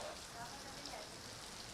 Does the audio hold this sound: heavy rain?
yes